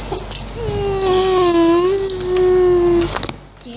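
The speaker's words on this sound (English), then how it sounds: "I saw a dog." A dog gives a drawn-out, high wavering whimper that holds steady for about two seconds, close and fairly loud over light background noise.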